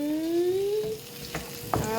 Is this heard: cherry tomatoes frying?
yes